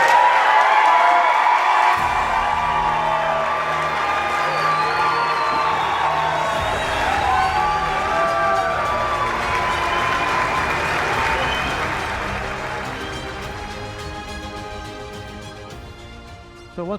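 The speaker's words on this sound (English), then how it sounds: "please help us welcome into the St. Louis Sports Hall of Fame with your applause" A banquet crowd at the St. Louis Sports Hall of Fame induction cheers and applauds inductee Jill Gomric Dalke, with steady clapping, whoops and shouts, and music playing underneath as the ovation slowly fades.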